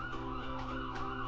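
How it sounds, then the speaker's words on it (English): An emergency siren wails steadily outside, muffled and fairly faint, holding a sustained tone without any talking. "Sorry for the sirens."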